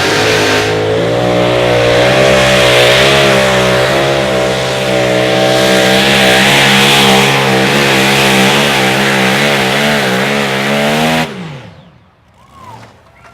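A 2WD pulling truck at an outlaw truck pull roars loud and close, its engine revving hard with rising and falling pitch for about eleven seconds before cutting off abruptly, leaving faint crowd ambience.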